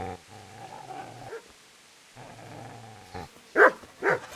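A dog in the medieval game Kingdom Come: Deliverance gives low, rumbling growls in two stretches, then two sharp, loud barks close together near the end.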